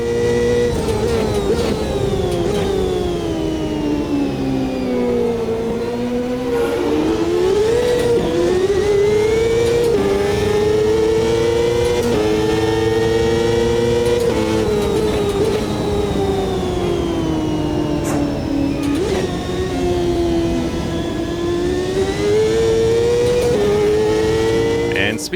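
A Formula USA open-wheel race car engine in the Automobilista 2 racing game, droning steadily with its pitch rising and falling through gear changes, running continuously and loud for the whole stretch without breaks.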